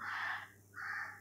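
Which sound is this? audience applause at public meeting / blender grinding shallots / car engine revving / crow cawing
crow cawing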